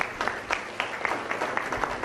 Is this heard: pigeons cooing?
no